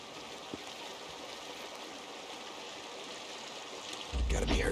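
A steady rush of creek water flows in the Days Gone open-world game, a constant mid-level trickle and babble with a louder splash near the end.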